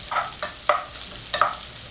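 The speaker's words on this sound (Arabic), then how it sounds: "هلا رح اوضع الفطر فوق الثوم" Sliced mushrooms are stirred into a pan over frying garlic, giving soft sizzling with three short scraping stirs close by.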